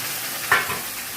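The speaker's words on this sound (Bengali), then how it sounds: "লাল লাল করে পেঁয়াজটা ভাজা হয়ে গেছে, এখন আমি এর মধ্যে দিয়ে দেবো মশলাটা।" Onions fried golden-red in a pan for a chicken curry sizzle steadily, with a brief stirring scrape as spices go in, near and moderately loud with no talking.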